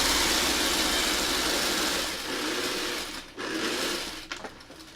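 A sewing machine stitches a Y seam on a quilted four-point star, a fast close rattling whir that slows and pauses briefly before starting again.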